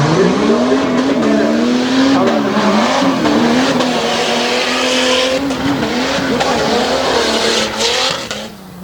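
A race car at a Renegade modified event in Abbottstown, Pennsylvania, is driven hard through a corner, its engine roaring loud and continuous with wavering pitch as the throttle is worked, with a race commentator's voice faintly audible in the background.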